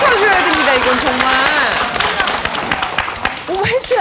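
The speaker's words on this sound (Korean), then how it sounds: "이거 박수 쳐줘야 됩니다, 이건 정말." A studio audience on a Korean morning talk show breaks into applause, a dense wash of clapping that fades gradually. Voices exclaim and talk over it, then a brief renewed burst comes at the end.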